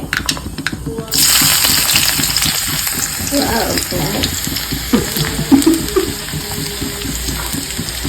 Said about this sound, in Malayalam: ചെറിയ ഉള്ളി നരക്കി കൊടുക്കുന്ന